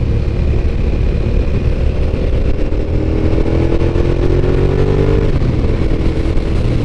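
A 2007 XJ 1300 motorcycle of about 146 horsepower runs close by, a loud, steady, low engine rumble with a slight rise in pitch partway through.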